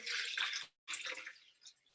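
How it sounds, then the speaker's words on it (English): Water poured from a container into a glass jar in a small home science demonstration, a steady splashing pour, a brief pause, then another pour that trails off, close and fairly loud with no talking. "we're going to pour some water"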